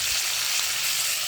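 Beans and potatoes with turmeric and salt fry under a lid in a covered wok, giving off a steady, soft, hissing sizzle that runs without a break and without voices.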